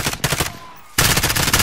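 Rapid machine-gun fire bursts out in a video game match of Warzone, a quick stuttering volley, a brief pause, then another sustained burst of loud close shots.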